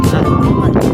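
Strong wind on a sunny day buffets the microphone with a loud, steady rumbling roar that fills the whole moment.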